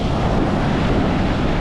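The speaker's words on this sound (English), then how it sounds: "The waves are hitting that pier pretty hard." Storm surf from Hurricane Idalia pounding the pier at Flagler Beach, Florida, a steady loud roar of crashing waves mixed with heavy wind buffeting, with no talk.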